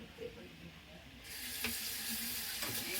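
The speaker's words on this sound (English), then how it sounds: "And you rinse it." Food rinsed under a running kitchen sink tap, with a steady broadband rush of water starting partway through and continuing, with a few clatters, close and moderately loud.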